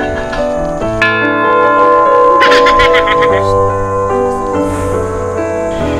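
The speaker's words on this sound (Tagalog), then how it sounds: "Ang kampana!" A bell rings with sustained, overlapping tones that hang in the air, loud and steady throughout.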